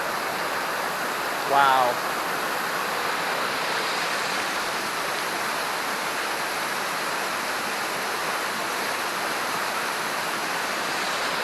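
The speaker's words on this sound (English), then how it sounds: "I believe I see the main waterfall in sight right now." A waterfall in an Oregon forest rushes with a steady, broad hiss of falling water, constant and fairly close, interrupted once by a brief exclaiming voice.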